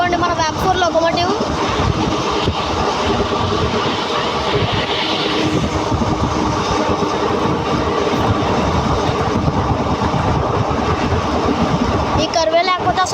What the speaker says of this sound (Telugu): అదిగోండి మన వ్యాప్పూర్ లోకోమోటివ్